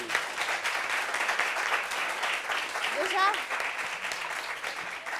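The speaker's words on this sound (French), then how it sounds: "Applaudissements pour lui" Audience applause for a speaker at a gathering about a nanny who mistreated children, a steady dense wash of clapping lasting throughout, with voices and a brief whistle-like call mixed in.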